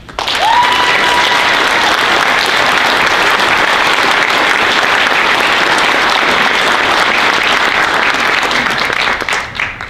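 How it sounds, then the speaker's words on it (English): A college commencement crowd gives graduating students a loud, sustained round of applause, a thick unbroken roar of clapping lasting the full ten seconds and fading only at the very end. "Let's celebrate your achievement with a round of applause"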